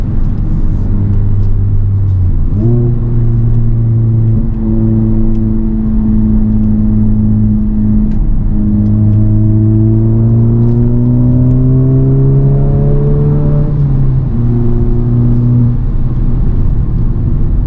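A 2023 Honda Civic Type R accelerates hard through the gears, its engine note climbing in long rising sweeps broken by short shift dips, loud and close with steady road rumble and no talk.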